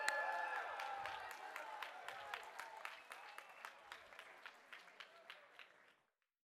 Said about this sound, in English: And give Dino a round of applause